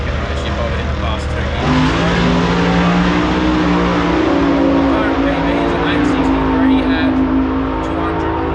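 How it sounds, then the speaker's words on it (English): A custom-built American drag racing chassis with a naturally aspirated Kawasaki ZX12 motorcycle engine roars loudly and steadily at a drag racing event, its revving drone continuous throughout, with a voice talking over it. "this is a custom built chassis out of America with a Kawasaki ZX12 motor in it, naturally aspirated"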